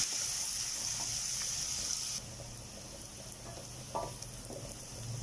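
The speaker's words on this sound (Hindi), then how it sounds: "अब मैं इसमें प्याज भी डाल दूँगी। इसको भी 1 आध मिनट भूनना है।" Chopped onions fry in oil in a pan for spicy spaghetti, giving a steady, close hiss and crackle, with a brief stirring scrape partway through.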